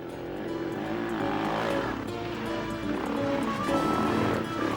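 KTM 400 LC4 Enduro four-stroke motorcycle from 1993 accelerating hard out of a curve on muddy ground, its engine note rising and holding loud and close throughout the short burst.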